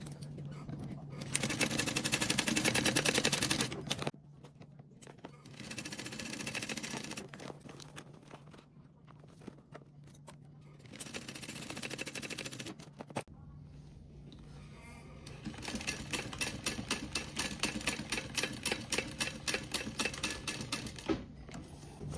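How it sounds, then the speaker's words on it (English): A sewing machine stitches across thick fabric layers at a quarter-inch seam, giving bursts of rapid mechanical clattering that start and stop several times, with a faster rhythmic stitching run toward the end. "We're gonna sew across both of these at 1/4 inch seam allowance."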